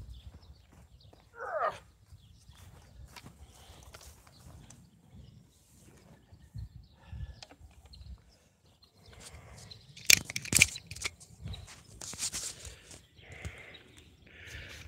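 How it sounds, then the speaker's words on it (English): A horse snorts and nickers in the background, with a brief whinny-like burst; rustling and light handling noises fill the rest of the clip. "that is a horse that is back behind me there"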